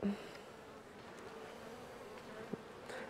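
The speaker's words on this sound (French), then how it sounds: "Un peu d'abeilles." A steady, close insect buzz of many bees droning continuously around an open hive frame during an October hive inspection, with a brief sharper knock partway through.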